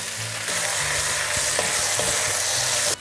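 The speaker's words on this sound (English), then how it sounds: "we're just going to let that fry for a couple of minutes, and then I'm going to stir it up so that all the meat is browned." Floured beef fries in hot oil for a beef and Guinness stew, a loud, steady sizzle with scraping stir strokes throughout, close up and with no talking.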